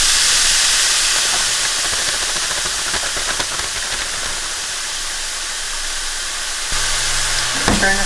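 Cauliflower rice with green peas, onion, carrots and green onions sizzles loudly in a frying pan, a steady close hiss that tapers slightly and continues throughout.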